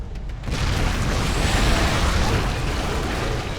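A big explosion in StarCraft II: after a brief quiet start, a loud, sustained rumbling blast rolls in and holds steady for several seconds, broad and heavy, with no voices over it.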